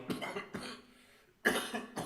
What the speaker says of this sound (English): Don't worry about the cough